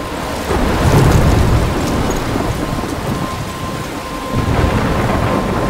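A thunderstorm in the video game Life Is Strange rumbles with heavy, steady rain and low rolling thunder, loud and continuous throughout, with no voices.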